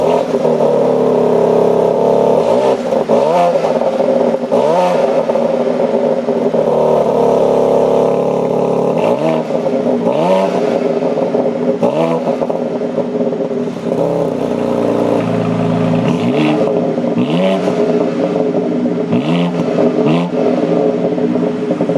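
A 2020 BMW X3 M Competition engine cranks and catches, then revs repeatedly in rising, falling surges over a steady idle, loud and close with no talking.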